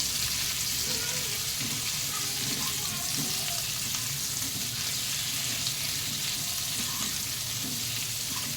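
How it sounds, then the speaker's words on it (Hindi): Baby potatoes tossed with chillies sizzle steadily in a frying pan over a slow flame, a constant close hiss with faint stirring scrapes throughout. "आलू को हमने मिर्चे में अच्छे से टॉस कर लिया है।"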